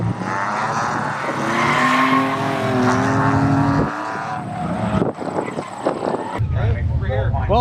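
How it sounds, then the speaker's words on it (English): A car drifts at Toronto Motorsports Park during a drift jam, its tires squealing in long, loud sustained wails with engine roar, then a shorter skid near the end, with people talking over it. "Spun out a couple times, but held a couple good drifts"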